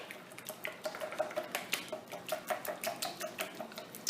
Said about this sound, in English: So all we do now, we take a whisk and we whisk all this down.